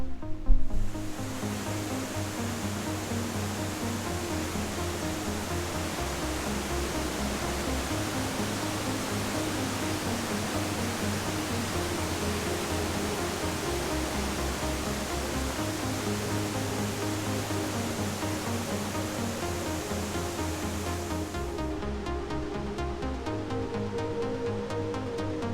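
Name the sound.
waterfall at Chutes Provincial Park, Ontario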